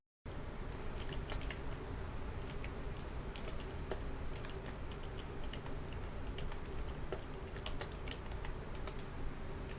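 Close, continuous typing on a computer keyboard while setting up a scheduled task on a PC: quick, irregular key clicks run steadily for about ten seconds without talk.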